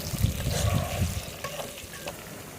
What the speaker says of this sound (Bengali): আলুগুলো একটু লাল লাল করে ভাজা হয়ে গেছে